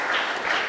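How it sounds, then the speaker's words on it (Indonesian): Church congregation clapping hands for God during a sermon service, a brief dense burst of many hands at moderate volume. "kita tepuk tangan untuk Tuhan"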